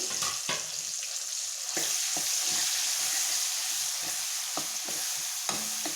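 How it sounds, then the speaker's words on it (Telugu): Masala paste for egg masala frying in hot oil, a loud, close, continuous sizzle broken by sharp scrapes and taps of a spatula as it is stirred around the pan, with no voices. "ఆయిల్ వేడాక ఇందాక మనం పేస్ట్ చేసి పెట్టుకున్న ఈ పేస్ట్ ఇందులో వేయాలి."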